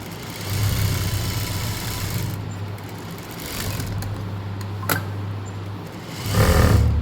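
A sewing machine stitching a dhoti pant, a continuous close mechanical whir running in two long stretches with a short pause between them and a brief click.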